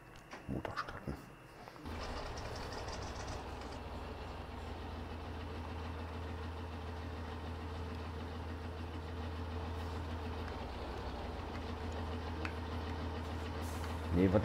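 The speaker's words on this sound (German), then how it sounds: "Motor starten." A Deutz tractor engine starts with a brief clattering burst, then settles into a steady, low idling rumble that continues throughout, growing slightly louder at the end, out in muddy ground.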